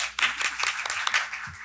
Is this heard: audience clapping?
yes